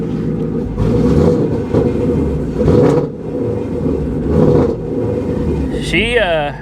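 A fire-damaged Range Rover engine is revved, rising and falling in rough surges up close, with people talking over it and a brief whining sweep near the end.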